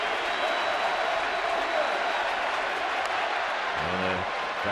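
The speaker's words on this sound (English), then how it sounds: "The sellout crowd right now on their feet." Sustained applause and cheering from a sellout crowd on its feet at a baseball stadium, a dense, even wash of noise, with a broadcaster's voice briefly cutting in near the end.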